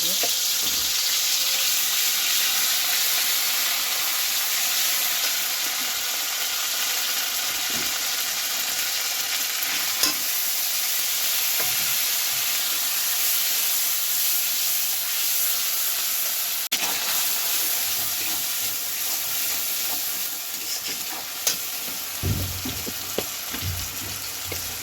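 A paste of ground ginger, green chilli and mustard seed fries in hot oil with dried chillies, a loud continuous sizzle and hiss close up, broken by occasional scrapes and knocks of stirring throughout.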